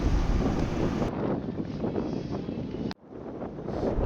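Strong wind buffets the microphone aboard a passenger launch on a river, a loud steady roar of gusts with a brief dropout near the end before the blustery rush resumes.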